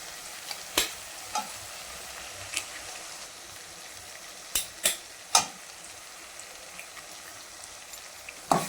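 Two eggs are cracked and poured into a pan while cooking kothu parotta with coriander and curry leaves, a continuous close sizzle broken by a few sharp clicks and splashes.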